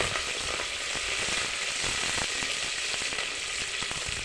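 Four dried red chillies and four green chillies fry in hot oil in a pan for a tamarind dal, giving a steady, close hiss and crackle with faint stirring scrapes and no talking.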